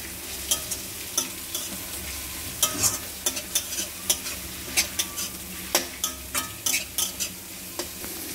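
Carrot, cabbage and green chili stir-frying in a pan, with a steady sizzle and repeated scraping strokes of a spatula at a regular rhythm, close and moderately loud, with no talking.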